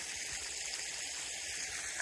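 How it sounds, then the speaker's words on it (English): Creek water pours off a big rock face into a pool at a small waterfall, a steady broadband rush heard nearby and alone, with no voices. "the water comes off of the creek down this big rock face into this pool"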